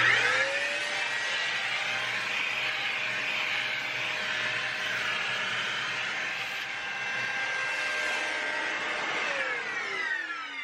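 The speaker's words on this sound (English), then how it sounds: "Start cleaning with a little vacuuming." A vacuum cleaner runs steadily while cleaning ordinary dust from a Yamaha M-45 stereo power amplifier, a continuous whirring drone held close and loud, with pitch shifts as the nozzle moves and slight rise toward the end.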